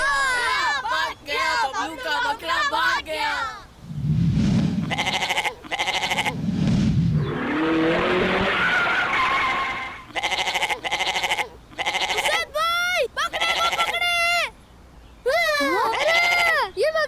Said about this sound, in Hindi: ये देखो बकरों की लड़ाई हो रही है